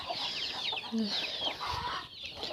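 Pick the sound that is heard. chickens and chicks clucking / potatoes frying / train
chickens and chicks clucking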